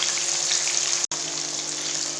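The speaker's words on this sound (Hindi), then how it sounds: "अब 3 से 4 मिनट इसको एक साइड से पकाएंगे और अच्छे से इसको करेंगे फ्राई" Fish pakora pieces coated in gram-flour batter frying in hot oil, a dense steady sizzle and bubbling close up, broken once by a brief cut of silence, with no talking.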